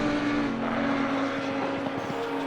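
Race cars lapping Silverstone in Assetto Corsa Competizione, a continuous engine drone at moderate level with rising gear-change pulses near the end and no talking.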